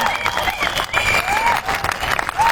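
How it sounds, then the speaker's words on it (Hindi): A live audience at an indoor event claps continuously in a dense wash of applause, with faint crowd voices mixed in. "ताली ऐसी बजाओ कि अगला जन्म आपको ताली बजाने के लिए न लेना पड़े"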